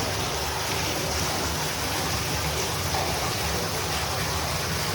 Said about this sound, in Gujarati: જોરદાર પાણી આવી ગયું ભાઈ.